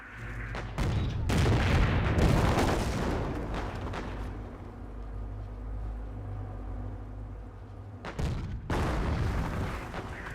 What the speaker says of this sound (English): You can bring in the heavy mortar barrage.